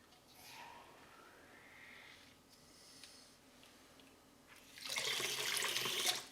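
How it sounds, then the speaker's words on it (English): Fresh water poured through a Sawyer Mini water filter, a faint trickle at first that swells into a louder, steady rushing flow near the end. "I'm going to go ahead and take and clean it out with my fresh water"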